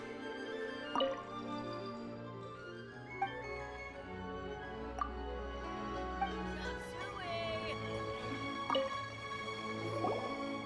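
Water being fetched and poured in Genshin Impact: a few soft drips and splashy liquid sounds spaced across the clip over steady background game music, with no talking.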